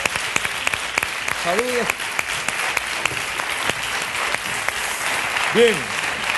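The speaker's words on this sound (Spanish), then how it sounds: "Un aplauso" Studio audience applause on a Spanish TV talk show, steady dense clapping throughout with someone speaking briefly over it twice.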